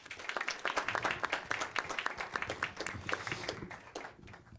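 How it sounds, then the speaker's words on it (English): Audience applause at a Moreno Valley city council meeting, a dense burst of many hands clapping that swells early and then gradually thins and fades over several seconds. "If we could give her one more round of applause, please."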